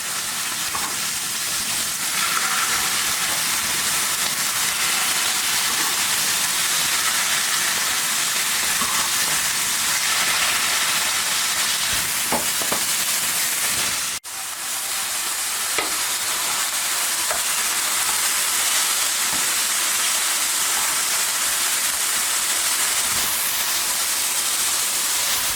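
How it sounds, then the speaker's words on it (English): Steak searing in oil in a hot pan gives a steady, fairly loud broadband sizzle that runs unbroken except for one brief dip midway, with faint clicks and scrapes on top. "And now we're going to sear our steak. You really want to get a nice crust on it."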